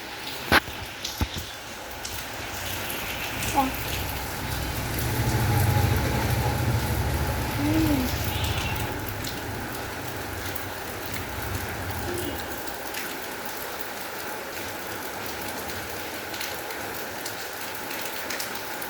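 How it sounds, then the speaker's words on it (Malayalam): Steady rain falling on outdoor surfaces in a dense, even patter, with a faint pigeon coo in the background and a few louder drops and knocks early on. "രാവിലെ നല്ല മഴ ഉണ്ടാകും, ഇപ്പം എന്നാലും കുറച്ച് കുറവുണ്ട്."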